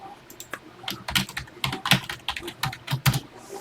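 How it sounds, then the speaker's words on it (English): Close, brisk typing on a computer keyboard, irregular bursts of key clicks rattling along steadily with no voices. "Oh yeah, you are typing."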